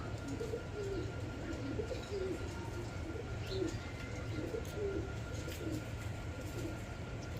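Pigeons at a pigeon sale center coo softly in repeated low calls against a constant background hum, with several birds heard close by.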